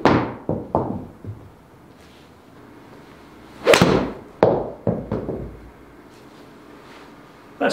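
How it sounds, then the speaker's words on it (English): Mizuno MP20 MB bladed 4-iron golf shots struck on a range, giving sharp, close impacts: a cluster of cracks early on, then a loud strike near the middle followed by several more crisp hits, with quiet gaps between them. "Now let's hit a couple more 4-irons"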